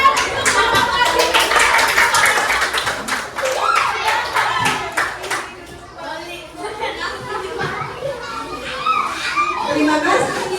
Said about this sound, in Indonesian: Tepuk tangan untuk Mama Kasih